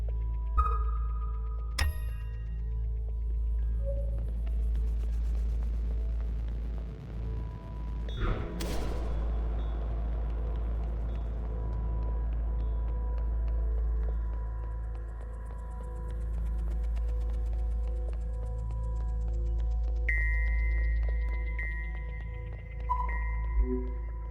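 Spaceship in the video game 1000xRESIST spinning up for descent, a deep sustained engine drone with tonal hums and pings, a sharp whooshing burst partway through, and rising electronic tones toward the end.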